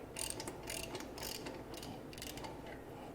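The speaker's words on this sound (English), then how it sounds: "Taking the bottom bolt off first, since that seems to work better." A ratchet working an engine bolt loose on a GM 3.6L SUV, with a series of quick, close clicking bursts in an uneven rhythm over a faint background hum.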